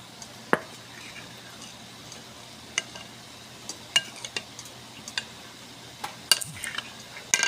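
Cornstarch being stirred into chicken asado siopao filling in a pot: scattered spoon clinks and scrapes against the metal, a few sharper taps, over a quiet bubbling simmer.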